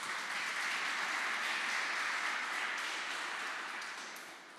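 A church congregation applauds the Lord during a sermon, a dense, even roar of clapping sustained across the clip that tapers slightly near the end, with no talking over it.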